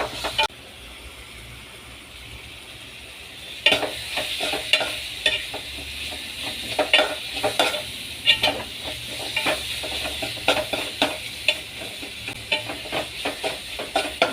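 Spices and green chili sauté in a pan for a fish curry without coconut, a steady sizzle and hiss with repeated scraping stirs of a spoon against the pan, close and continuous.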